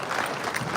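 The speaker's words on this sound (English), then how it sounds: "A round of applause for His Excellency." Audience applause at a formal event in Montreal, a short steady wash of clapping from a crowd.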